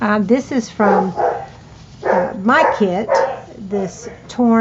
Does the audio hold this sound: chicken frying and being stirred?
no